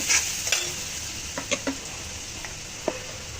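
Ground red chili and turmeric fry briefly in oil in a pan, with a soft sizzle under a few sharp scraping and clinking stir sounds.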